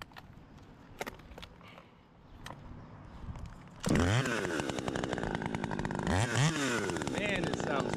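A Redbeard Mark III chainsaw idles with clatter and a voice speaks, then it revs hard and bites into wood with a loud, close, ripping snarl whose pitch dips and rises as it cuts.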